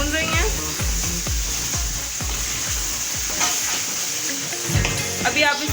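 Beef for bhuna gosht sizzles and fries in a pot while being stirred, with rhythmic scraping strokes roughly every half second over a loud, steady sizzle.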